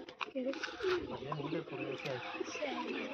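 Tournament pigeons on a rooftop coo steadily in low, throaty rolling calls, close and continuous, while someone talks alongside.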